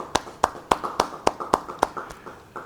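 A church congregation claps in unison at a Bible study service, a steady run of about ten crisp, evenly spaced claps, with no talking.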